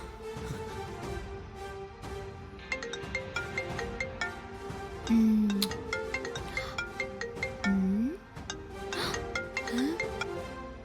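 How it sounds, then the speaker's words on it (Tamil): A mobile phone rings with an incoming call during a Tamil TV serial scene: a looping ringtone melody plays over a background music bed, with a few rising tonal chirps. "சங்கரபாணி சித்தப்பா இவர் எதுக்கு எனக்கு ஃபோன் பண்றாரு?"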